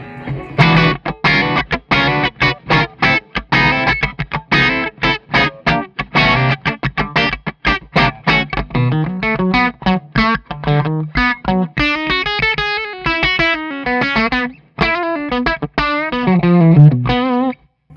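A distorted Suhr Custom Telecaster-style electric guitar through a Cornford tube amp plays a busy run of picked notes and chords, loud and continuous with a bright, punchy amp tone and no talking.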